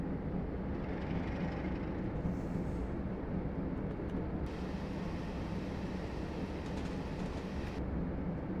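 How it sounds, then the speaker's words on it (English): An American freight locomotive, EMD SD40 type, in a train simulator game rumbles steadily and loudly throughout, with a dense, constant engine and rolling drone and no pauses. "That's an American freight locomotive."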